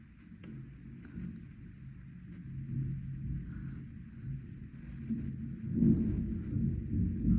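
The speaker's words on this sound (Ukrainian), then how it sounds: "Гримить, гроза" Low thunder rumbles on through a summer thunderstorm, a steady deep roll that swells toward the end, heard from indoors with no one talking.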